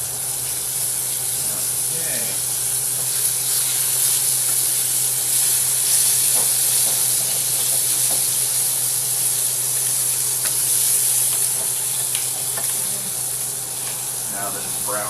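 Chicken browning in a hot pan for chicken cacciatora gives a steady, loud sizzle and hiss throughout, with occasional small clinks and faint speech in the background.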